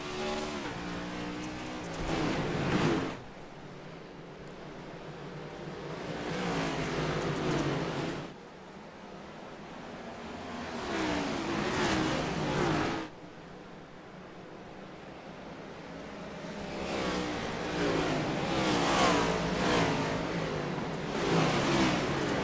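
Race cars on a dirt track roar past in repeated waves as green flag racing resumes, each pass swelling into a broad whooshing rush and then fading, with quieter gaps between the groups.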